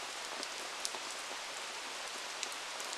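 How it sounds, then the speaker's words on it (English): Monsoon rain falls steadily in Bandipur Tiger Reserve, Karnataka, a dense, even hiss of drops on surfaces with a few sharper drips. Constant and enveloping, with no voices. "it'll rain almost every day, sometimes for days on end"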